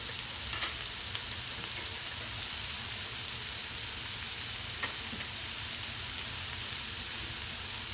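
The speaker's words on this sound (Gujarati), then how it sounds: "તો આને સોટે વેજીટેબલ્સ કહેવાય." Vegetables with salt sizzle steadily in a hot pan, a constant close frying hiss with a few faint scrapes of stirring throughout, no voices.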